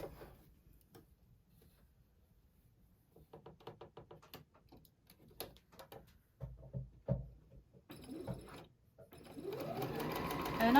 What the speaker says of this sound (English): And I'm just stitching right on that line.